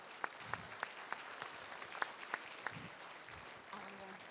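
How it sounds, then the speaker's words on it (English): Faint applause at a voters forum, with steady clapping from an audience in a hall running throughout, distinct individual claps standing out, and some speech-like sound in the background. "Please give him a warm round of applause."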